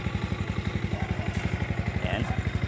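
A Skygo Boss 150 motorcycle engine idles steadily up close, a rapid even putter with a clattery edge, while someone talks faintly underneath.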